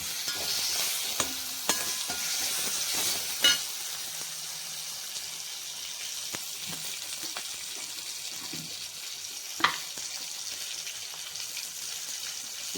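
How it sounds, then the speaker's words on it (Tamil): Tomatoes with turmeric sizzle gently in a pan under a soft, continuous hiss, broken by scattered clicks and scrapes of a spoon stirring, with a sharper knock now and then. "தக்காளி கொஞ்சம் நல்லா வதங்க"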